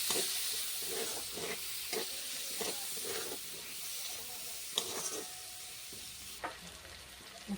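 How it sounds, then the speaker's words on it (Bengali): Chopped onion frying in oil, a steady hissing sizzle broken by rhythmic stirring scrapes and a few sharp pan knocks; no one speaks. "এবার খুব ভালো করে পেঁয়াজটা ভাজতে হবে।"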